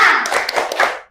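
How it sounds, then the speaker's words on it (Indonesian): A school class performs a rhythmic spirit clap led by their teacher: a short burst of brisk, sharp hand claps in quick succession, close and fairly loud, ending abruptly. "Tepuk semangat."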